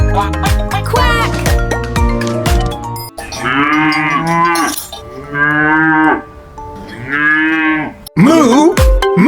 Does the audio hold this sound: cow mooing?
yes